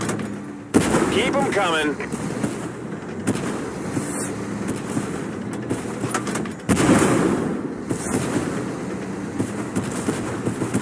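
Tank cannon fire in the video game Zarkon Tank Force, heavy booming blasts at a few sharp points over a rumbling engine and battle din, with players talking over the action.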